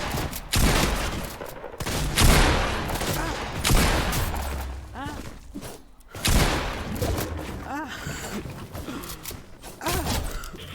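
Video game gunfire crackles in dense, repeated bursts, close and loud, mixed with mechanical clatter and booms while players talk excitedly over the action.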